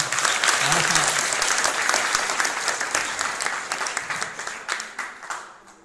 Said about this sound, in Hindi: ताली बजा दो इनके नाम।